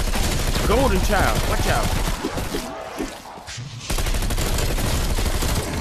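Dense automatic gunfire in Cold War Zombies VR, loud continuous bursts that pause briefly in the middle and then resume, with excited talk over the first part.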